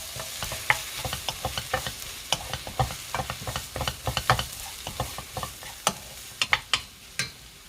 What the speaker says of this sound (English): Last step, I gonna put this egg in. Then mix stir fry.